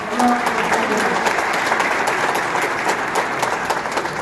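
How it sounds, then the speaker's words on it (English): Audience applause fills a hall at a Kosovo Independence Day celebration in New York City, a steady dense wash of clapping from a sizable crowd heard alone and at close range. "a round of applause"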